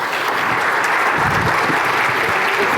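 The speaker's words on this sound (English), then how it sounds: "let's give them a round of applause" Loud, full applause from a conference audience at a health policy keynote, dense continuous clapping from a large crowd with a brief low rumble of movement partway through.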